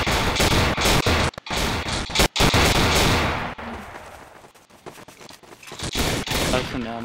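Rapid, loud bursts of automatic gunfire from the video game Codename Cure pound away for several seconds, then thin out to scattered shots, with a player's voice faintly under the din.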